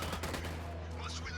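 Gunfire in a Ghost Recon–style GTA mod, a quick flurry of overlapping shots heard fairly quietly in a short, busy stretch of game audio, with voice chatter mixed in.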